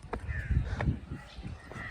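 A crow caws in the forested hills around Tulsishyam in Gujarat, giving a few harsh, close calls over a low outdoor rumble.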